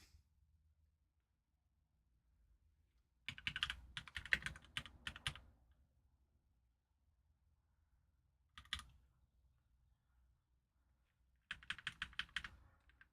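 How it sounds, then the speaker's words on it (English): Bursts of loud, clacky computer keyboard typing, three separate flurries of rapid keystrokes separated by near silence. "my keyboard is loud."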